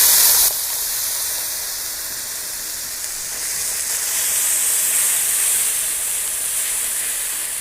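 Water used to rinse the spices hits a hot crab curry masala made with Sundarbans crabs, setting off a sudden loud, steady hissing sizzle that swells and stays dense throughout, close and with no voices.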